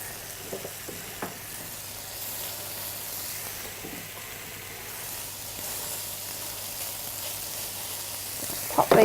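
Paleo beef sliders sizzle steadily in a frying pan, a continuous crackling hiss with occasional small pops, heard alone without talk.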